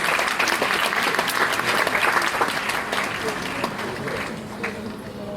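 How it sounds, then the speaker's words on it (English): Audience applause at a school annual prize distribution ceremony, dense steady clapping from a large crowd that holds strong for several seconds before easing slightly. "Please bring your hands together for their extraordinary performance."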